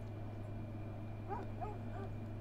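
A hunting dog in the strategy game Crusader Kings 2 gives a few short, faint barks and yips over a steady low electrical hum.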